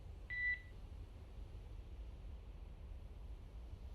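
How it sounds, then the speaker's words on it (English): A single short Quindar tone beep from a SpaceX Dragon comm check, sharp and clear, followed by quiet hissing radio static with no talk. "that beep boop sound is called the Quindar tones"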